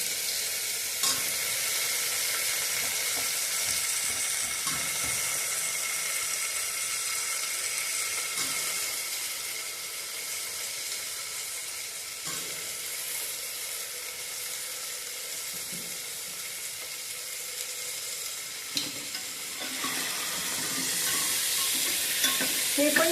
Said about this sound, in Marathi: आता मी ह्यामध्ये घालणार आहे हे चिरवून ठेवलेली वांगी आणि बटाटा